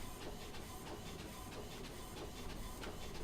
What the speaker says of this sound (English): you hear that printer?